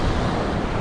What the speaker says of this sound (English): You can see it out there, the breakers far out.